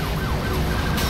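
Police car sirens wail in the PC racing game Need for Speed Hot Pursuit, loud, sweeping tones rising and falling over a steady car engine hum, with no talk.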